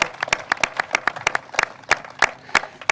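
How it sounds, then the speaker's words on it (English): A small audience at a water-focused event claps in uneven, distinct hand strikes, each clap sharp and close, forming a loose, sparse patter over a few seconds. "So give him a round of applause."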